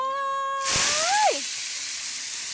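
Papaya pieces drop into a hot pan and burst into a loud, close sizzling hiss that holds for about half a second and then eases to a steady low frying crackle.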